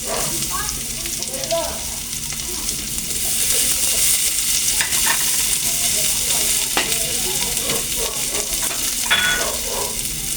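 Onions and garlic frying in a pan for ginataan with labahita fish, a loud continuous sizzle broken by scrapes and clinks of stirring, with occasional faint talk underneath.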